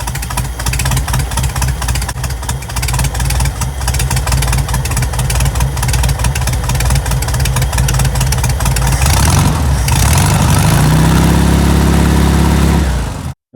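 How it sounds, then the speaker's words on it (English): Volkswagen Beetle engine after an alternator/generator belt replacement with shimmed pulleys: a rapid, rattly air-cooled idle close by that swells into a louder, smoother rev near the end, then cuts off abruptly. "now we turn on the engine and see how this one reacts"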